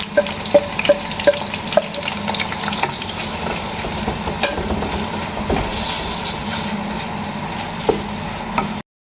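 A large batch of onions browning in oil for chicken haleem, a steady sizzle close by with repeated spoon taps against the pot at the start and scraping stirs throughout, no one talking.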